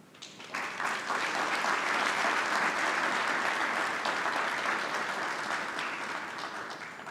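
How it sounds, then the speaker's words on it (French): Applause swells in after a brief quiet start, then steady crowd clapping at an award ceremony in Brazzaville that slowly tapers toward the end. "vous demander aussi d'applaudir chaque fois que je vais les saluer, Monsieur Edgar Nguesso,"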